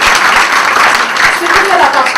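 An audience at an international business forum applauds, giving a loud, dense wash of clapping that fills the whole moment without a break.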